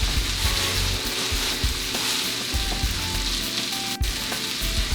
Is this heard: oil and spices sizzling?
yes